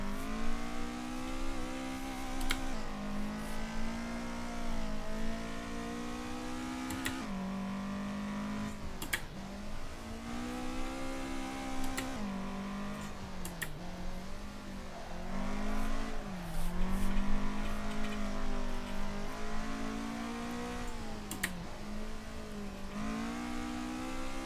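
A race car engine in Assetto Corsa, heard during a public server race, revs hard and repeatedly climbs and drops in pitch through gear changes, loud and continuous throughout.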